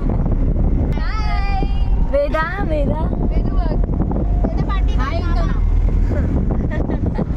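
A boat sets off toward Janjira fort, its engine and wind rumbling steadily up close while people talk and call out over it the whole time.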